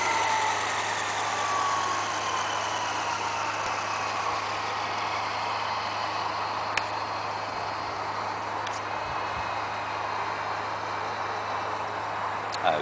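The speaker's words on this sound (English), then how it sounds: "just to show you how it spools up into a fast head speed" Flasher 600E Sport electric RC helicopter with a Phoenixtech DT5035 1000kv motor and SR100A ESC, its rotor head held at a fast speed. It makes a loud, steady whine and whirr throughout, with only slight shifts in pitch.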